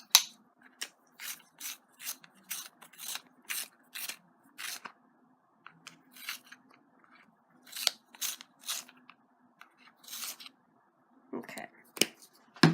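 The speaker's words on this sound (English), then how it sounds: "gold, which I apparently have to sharpen real badly" A Crayola gold colored pencil is sharpened in quick bursts of dry rasping scrapes, close and crisp, repeating in rhythmic groups with short pauses between them.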